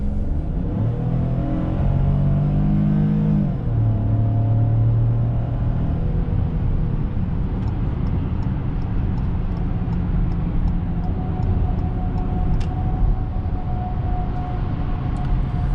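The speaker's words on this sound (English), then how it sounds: "this engine sounds so good" A 2021 Ford Bronco's 1.5-litre turbocharged engine drones inside the moving SUV on a highway, pitch rising as it speeds up, then settling into a constant road roar and hum.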